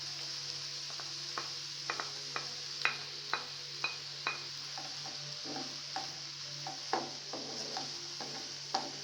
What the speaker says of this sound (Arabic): نخليها شويه تقلى